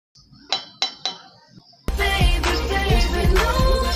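Water and gelatin go into a stainless steel cup for homemade fondant, first with a few sharp metallic clinks and taps against the cup, then a louder continuous swirling and scraping of stirring close by.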